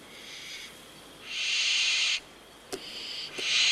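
A barn owl in Israel gives harsh, hissing screeches in separate bursts of about a second, with short clicks between, close and clear without talk.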